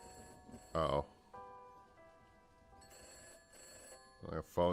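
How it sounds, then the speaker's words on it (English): Telephone bell rings in repeated bursts between short stretches of speech, moderately loud and close, with a speaking voice cutting in before and after the rings. "My phone's ringing."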